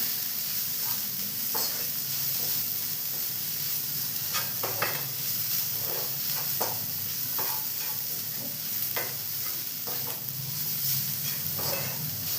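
Onions and tomatoes sizzle steadily in a pan, with a spatula scraping and stirring in short intermittent strokes.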